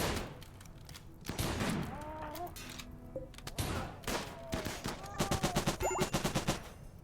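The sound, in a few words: machine gun fire in video game Rimworld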